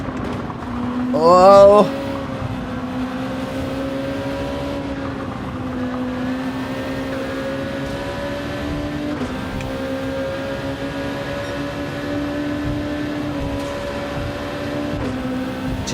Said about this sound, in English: Such a distinctive sound, that CLK.